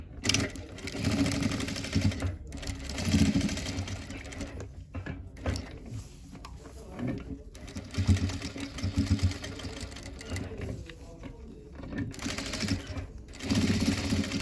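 Sewing machine stitching a normal blouse runs in steady bursts of fast mechanical clatter with brief pauses between seams, close and fairly loud, with no talk over it.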